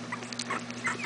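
A tired dog whimpers softly in a quiet room, a few faint, short, high whines spread across a brief moment with no talk.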